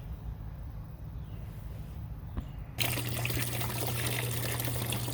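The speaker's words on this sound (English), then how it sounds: "You hear my fountain running in the background" A garden fountain runs steadily outdoors as a soft trickle, then turns suddenly louder and fuller partway through as a constant splashing gush with no talking.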